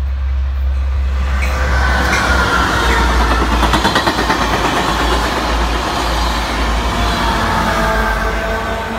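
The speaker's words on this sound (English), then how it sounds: "Amtrak 75, Kannapolis, North Carolina, passing the old Norfolk Southern Depot" Amtrak 75 passenger train rolling past the old Norfolk Southern depot in Kannapolis, North Carolina, a loud, close, sustained rumble of engine and wheels with rhythmic clacking of cars passing, steady throughout.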